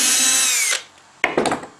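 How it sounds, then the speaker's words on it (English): A power drill bores a dowel hole through a Dowelmax jig into a tabletop board, giving a loud whining run that winds down, then a shorter second burst after a brief pause. "and drill again, number 4."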